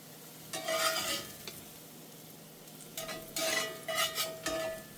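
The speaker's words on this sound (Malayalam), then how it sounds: "നല്ല ടേസ്റ്റുള്ള നെയ്ക്കകത്ത് മൊരീച്ച നമ്മുടെ ഏത്തപ്പഴങ്ങൾ ഇവിടെ റെഡിയായി" Nendran banana slices frying in ghee and being stirred, a soft sizzle under bursts of spatula scraping against the pan, one burst early, then a quiet stretch, then several quick strokes in a row.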